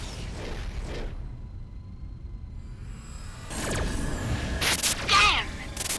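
Heat-seeking missiles launching in the space game Rebel Galaxy: a quiet hum gives way to a broad whooshing burst with sharp bright blasts near the end, loud and close.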